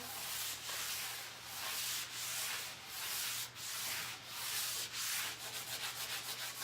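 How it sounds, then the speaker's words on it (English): Sandpaper worked back and forth over a rough spot on a primed wooden table, a steady close scratching in repeated strokes that quicken toward the end, with a low hum beneath. "There's a rough spot that I had in the table, so I'm going to sand it a little bit more."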